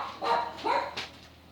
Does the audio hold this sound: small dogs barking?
yes